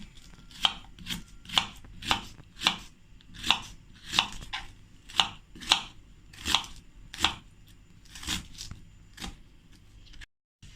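A knife chops large onions on a board in about fifteen crisp, evenly spaced strokes, close and clear, with no talking.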